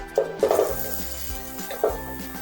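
Potatoes dropped into hot oil with spices for a vegetarian mixed-vegetable dish, giving a soft steady sizzle under a few close metallic clanks of a spoon stirring in the pan.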